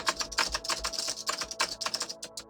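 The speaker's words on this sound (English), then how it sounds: "Listen to the big Cracking keyboard." A loud clicky computer keyboard is typed on in a quick, uneven stream of crisp clacks, close and continuous, with no talking.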